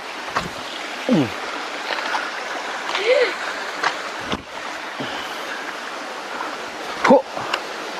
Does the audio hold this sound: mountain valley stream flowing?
yes